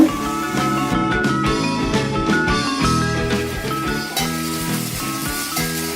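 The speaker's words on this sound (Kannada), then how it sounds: "ಹಾಕ್ಬಿಟ್ಟು ಒಂದು ಟೈಮ್ ಫ್ರೈ ಮಾಡ್ಕೊಳ್ಳೋಣ" Mushrooms for a pepper fry sizzling in a pan, a steady, loud hiss running under prominent background music throughout.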